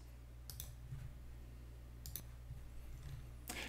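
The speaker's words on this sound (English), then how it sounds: "you're just going to click on this eye here that says view results" A few faint, sharp clicks of a computer mouse against a low electrical hum, spaced a second or more apart in quiet surroundings.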